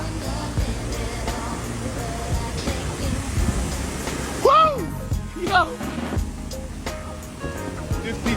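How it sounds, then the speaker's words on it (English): Water gushes in a loud, steady rushing roar from a broken water main that was struck, spraying about fifty feet, with excited shouts and voices heard over the torrent. "50 feet water main break."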